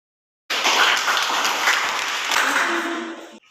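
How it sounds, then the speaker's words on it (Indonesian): Classroom applause for a student group presentation, a dense burst of clapping starting abruptly and tapering off after about three seconds. "Tepuk tangan untuk kelompok 1"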